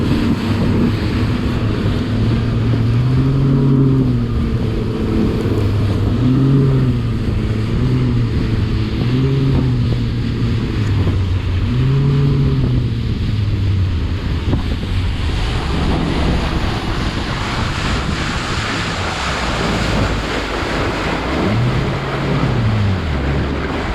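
A Mercury 250 Pro XS four-stroke outboard drives a bass boat across open water, its low engine drone rising and falling under heavy, constant wind buffeting and splashing waves.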